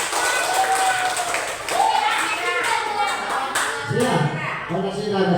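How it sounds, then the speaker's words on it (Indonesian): Primary schoolchildren in a classroom clap their hands in short bursts, brisk group clapping mixed with children's voices and an adult speaking. "Tepuk tangan dulu. Tepuk tangan."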